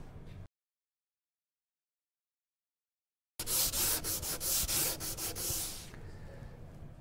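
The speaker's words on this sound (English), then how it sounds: "Sanding by hand is a basic skill for any DIYer or woodworker." Wood being sanded by hand with sandpaper: after a stretch of silence, close rhythmic scratchy strokes run for a few seconds, then ease into a softer rubbing.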